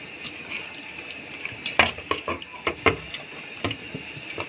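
Raw chicken being worked by hand in a soybean oil marinade for barbecue: quiet, wet squelches and clicks in uneven bursts, close up, over a soft background hiss with no talking.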